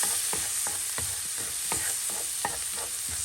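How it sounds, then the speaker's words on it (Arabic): Onions sautéing in browning, caramelizing butter for chicken piccata with mushroom sauce, a steady close sizzle with regular stirring scrapes about every third of a second, no voices. "وراح انزل البصل، احمصهم شوية"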